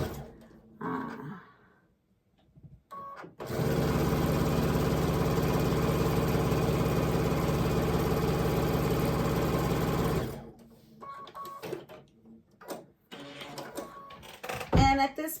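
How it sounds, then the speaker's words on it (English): A domestic sewing machine stitches two quilt strips together at a quarter-inch seam, running as one steady, loud, continuous hum for about seven seconds, with quieter handling and fabric rustling before and after. "I am going to go ahead and sew this right up"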